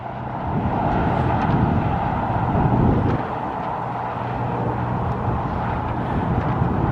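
Highway traffic in the desert near Banning and Indio, amid wind turbines, rushes as a continuous broadband roar with a low drone, steady and fairly loud, with no one speaking.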